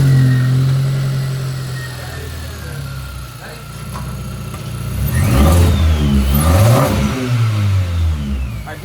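Car fitted with an eBay cold air intake idles, then its engine is revved twice to around 3,000 rpm, rising and falling with a strong intake roar, loud and close, and faint voices in the background.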